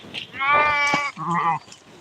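A flock of sheep bleats loudly nearby, with one long wavering bleat followed by a shorter one and faint outdoor murmur underneath.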